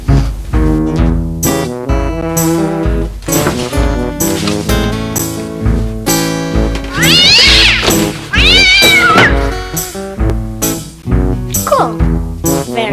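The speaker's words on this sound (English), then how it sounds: "A kitty cat." A cat meows loudly over a dense musical score, with a drawn-out, wavering caterwaul rising in the middle before the music carries on.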